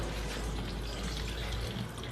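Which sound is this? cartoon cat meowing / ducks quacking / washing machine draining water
washing machine draining water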